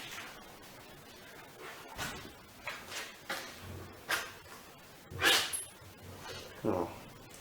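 A pet dog barks in a garage workshop, around a Victa lawnmower being rebuilt, giving several separate short barks and yips with pauses between them. The barks sound fairly close, over low background noise.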